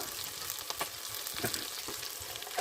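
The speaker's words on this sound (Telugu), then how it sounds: "రెండు సైడ్లు తిప్పుకుంటూ బాగా ఫ్రై చేసుకోవాలి వంకాయ ముక్కల్ని" Eggplant pieces fry in oil while being turned on both sides: a soft, steady sizzle with faint crackles and occasional stirring clicks, quiet and close.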